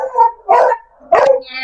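A dog barks three times, loud and close, in quick separate bursts with brief gaps between them.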